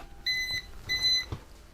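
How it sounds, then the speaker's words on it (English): A UPS unit beeps after being unplugged from mains power: two sustained high electronic beeps, each lasting about a third of a second, in a quiet room. "You've probably heard the beeping."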